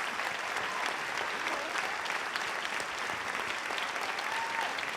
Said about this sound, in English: Another round of applause for our performers and our storytellers.